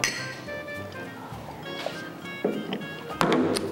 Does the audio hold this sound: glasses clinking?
yes